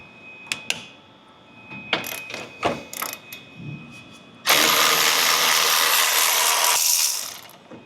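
A ratchet with a 15mm socket works a fuel tank bolt on a 2011-2026 GM Duramax 6.6L truck, giving several sharp, spaced clicks up close, followed by a loud, sustained mechanical whir lasting a couple of seconds.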